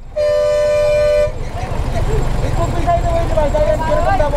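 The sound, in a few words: bus horn honking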